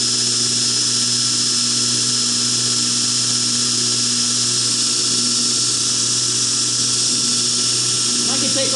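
A knife blade being ground on a grinder, a continuous loud mechanical whine and hiss that holds steady throughout without pause.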